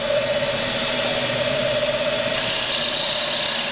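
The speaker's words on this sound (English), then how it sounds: "and I'm just going to speed the lathe up" A wood lathe turning a bowl, a loud, steady motor drone with a sustained whine that rises slightly in pitch as it speeds up.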